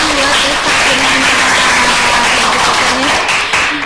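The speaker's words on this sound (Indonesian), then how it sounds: "tepuk tangan buat" Applause from a live audience at an alumni talk show, loud and close, with a voice and a tonal sound running through the clapping.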